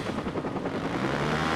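Helicopters in Watch Dogs thrum with a dense, continuous rotor roar, loud and close, steady across the whole stretch with no voices.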